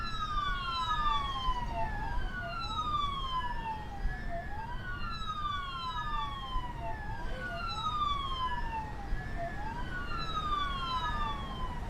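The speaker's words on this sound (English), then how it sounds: "Can't change the sirens here." A police car siren in the video game Keep the Peace wails in repeated rising and falling sweeps, loud and continuous over a low engine-like rumble, with no voices.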